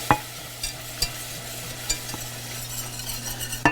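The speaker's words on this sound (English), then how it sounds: "I just want to keep on coming with the liquid and whisk it in as we go" A whisk stirs liquid into a roux for turkey gravy on the stove, with a steady low sizzle under it and a few sharp metallic taps against the pan.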